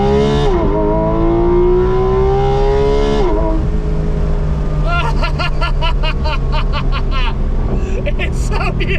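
A Porsche GT3 RS naturally aspirated engine revs up in a rising wail, drops back, then fires off a run of sharp, rapid blips, loud and close.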